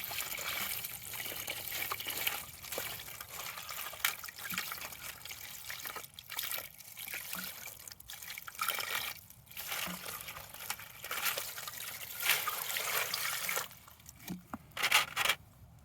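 Tumbled serpentine rocks rinsed under running water, trickling and splashing with occasional scraping clatter of stones, uneven and fairly quiet.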